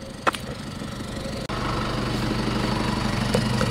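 A running tractor engine heard close and steady, a rough low mechanical drone with a slight surge in level partway through and a couple of brief clanks over the top.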